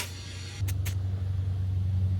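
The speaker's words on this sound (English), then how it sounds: "I got the compressor out. Some of my tires are a little low." A portable air compressor kicks on beside a car, a steady low motor hum with a couple of brief hissing clicks as it starts topping off low tires outdoors.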